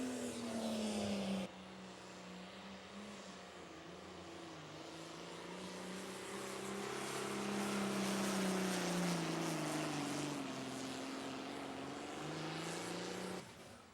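A light limited pro stock pulling tractor at an outlaw tractor pull in Wisner, Nebraska, gives a loud, sustained engine roar that swells and dips in pitch as it crawls down the track, with no voices.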